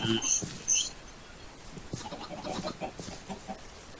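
Minecraft chickens cluck and squawk in short bursts near the start, then quieter clucking continues over a faint background hum with some voices.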